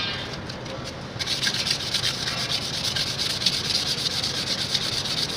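Rapid back-and-forth scratching of fine sandpaper on an oil cooler pipe, close and continuous after a brief quieter start.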